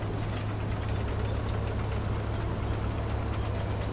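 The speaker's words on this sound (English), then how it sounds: "you might potentially possibly sneak up on somebody by your engine noise" A 29-K self-propelled gun tank engine in the War Thunder video game runs as a steady, continuous low rumble. No speech breaks through the drone.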